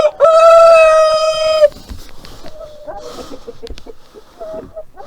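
A Light Brahma rooster crows loudly and close, one long call, followed by softer scattered clucking from Light Brahma chickens in a temporary coop.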